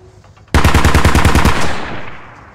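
A BTR's mounted machine gun in the video game Squad fires one loud, close burst of about a dozen evenly spaced heavy rounds, then the echo decays into quiet.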